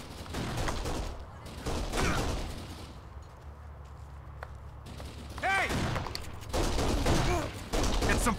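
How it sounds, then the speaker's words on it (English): Gunfire in the video game Kane and Lynch 2: Dog Days, bursts of shots and a few sharp impacts popping in the middle distance, with game sounds and voices layered around them. "We're getting shot."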